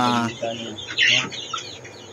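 Incubator-hatched farm chickens cluck and call close by, a few short clucks and squawks with a person talking over the first moment.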